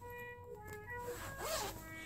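A zipper runs along the side of a tiered jumper skirt dress, a soft rasping pull heard close and quiet over a faint background hum, with no talking.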